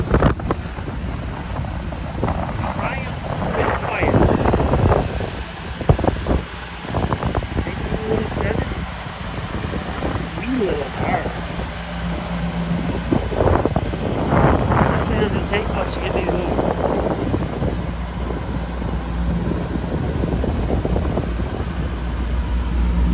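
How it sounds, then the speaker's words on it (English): Gusty wind buffets the microphone with low rumbling bursts throughout, while people talk intermittently over it outdoors beside a 1970 Triumph Spitfire convertible. "Might be a little windy for this,"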